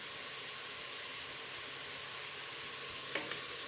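Mutton fries in a cooker, giving a steady, soft hiss of sizzling with a couple of faint clicks near the end.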